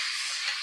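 Onion hitting a hot pan just cleared of fried fish, a steady, loud hiss of sizzling oil that holds evenly throughout with no talking.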